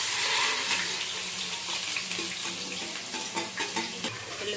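Onions fry in hot oil in a pan while being stirred, a dense, loud, continuous hiss and crackle with faint scraping, close up and without speech.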